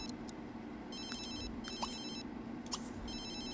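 A telephone rings in The Sims 3, sounding as repeated bright electronic ringtone bursts over a steady hum of in-game background sound, with no one talking.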